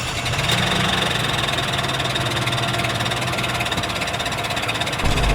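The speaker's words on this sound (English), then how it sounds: "I'm gonna start it so y'all can hear how it starts" A car engine with a recent starting problem turns over and settles into a steady, rumbling idle with a faint knocking vibration, running loud and close throughout.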